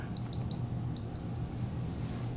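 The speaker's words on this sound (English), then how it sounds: "Poor little bird." A lone chick chirps in quick bursts of three short high tweets, repeated twice over a steady low background rumble, with no talking.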